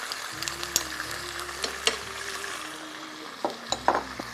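Garlic sizzles as it fries in a pan of oil with a little water, a steady crackling hiss with scattered spatters and a few clinks of a utensil against the pan.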